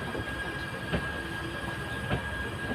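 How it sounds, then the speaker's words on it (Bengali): The Sealdah–Balurghat Express pulling out of Naihati Junction, a steady rumble of rolling wagons with two distinct wheel clunks over rail joints and a faint high squeal above. "নৈহাটি থেকে ডিপার্চারটা আপনারা দেখুন"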